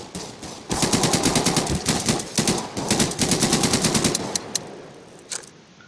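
Rapid automatic gunfire from Garry's Mod weapons in a game firefight, sustained bursts of rattling shots with brief gaps, loud and close, tapering to a few isolated shots at the end.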